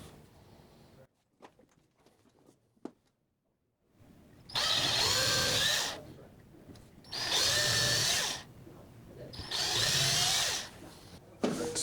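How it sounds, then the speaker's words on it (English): Power drill boring three marked mounting holes, heard as three loud whirring bursts of a few seconds each with pauses between, after some quiet handling taps. "so we can drill those out"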